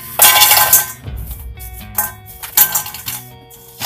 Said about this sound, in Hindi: आप आवाज सुन पा रहे होंगे इसकी कितनी क्रिस्पी है